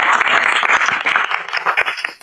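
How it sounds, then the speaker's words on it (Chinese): Studio audience applause at a film promotion livestream, a dense continuous wash of clapping that stays loud for two seconds before tailing off, with no voices over it. "鼓掌来"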